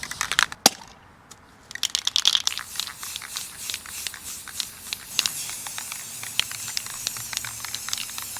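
A can of Rust-Oleum 2x Ultra Cover semi-gloss white paint and primer sprays in close, sharp hissing bursts, separated by a brief pause, with clicks and rattles of handling between sprays.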